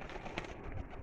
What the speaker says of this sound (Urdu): یہ استاد کے پاس نایاب ٹیڑی کبوتر ہے